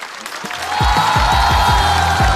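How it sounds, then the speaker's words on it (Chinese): A live stand-up comedy audience applauds comedian A Xiu after the vote; dense clapping swells after a moment and holds steady and loud, with some low crowd murmur underneath. "掌声送给阿修。"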